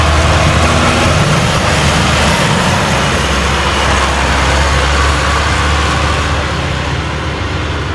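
A tractor engine at a fairground tractor race gives a steady, loud, heavy low rumble that holds without a break for the whole stretch, with no voices over it.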